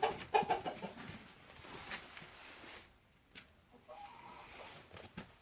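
Trabzon Gugulu chickens weighing over three kilos, affected by CRD respiratory disease, give a few close, soft clucks at the start, followed by quiet shuffling and faint scattered noises.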